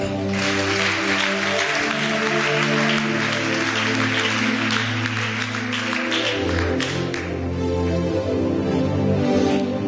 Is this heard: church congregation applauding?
yes